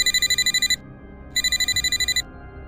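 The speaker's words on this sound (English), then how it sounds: "Then my work phone rang." A work phone rings in two bursts of rapid electronic trills, loud and close, with a short silent gap between them over a low background hum.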